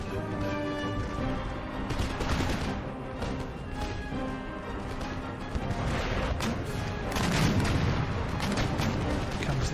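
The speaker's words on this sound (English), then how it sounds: "Long-range artillery." Long-range artillery fire in the video game Empire Total War, a dense, continuous barrage of booming cannon shots and crashing impacts layered over battle din, loud and sustained throughout.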